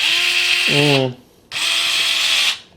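A Fanttik NEX S1 Pro electric screwdriver whirs steadily in two close, loud bursts separated by a brief pause, with a falling pitch as it slows near the end of the first run.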